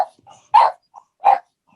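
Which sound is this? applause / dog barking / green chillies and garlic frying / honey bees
dog barking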